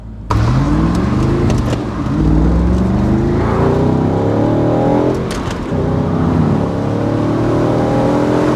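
A loud Audi R8 engine with a stainless Miltech exhaust revving up through rising gear sweeps, dipping and climbing again, with a throaty exhaust note close by.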